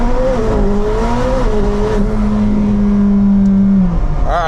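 A McLaren 765LT holds loud, high, steady engine revs on launch control for several seconds, then the pitch dips and quickly climbs again as the car launches from a standstill.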